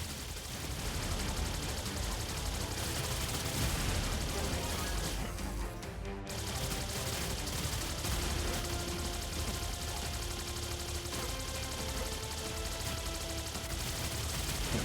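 Plasma weapon fire in Terminator 2D: NO FATE comes as dense, rapid bursts amid a continuous loud wash of game sound, with one brief drop-out midway before the barrage resumes.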